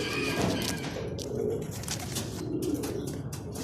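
Racing pigeons on the loft coo in soft, repeated throaty calls close by, mixed with light chirps and a brief flutter, the birds arriving back from a Sariaya release.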